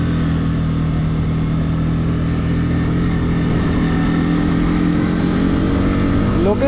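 Motorcycle riding along a smooth, wide road, its engine a steady loud drone with constant wind rush throughout, recorded close from a helmet-mounted camera.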